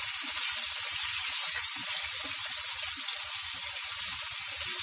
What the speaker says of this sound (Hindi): अब मैं इसमें गोश्त के पीसेस डाल देती हूँ। हाई फ्लेम पे हम इन्हें फ्राई कर लेते हैं।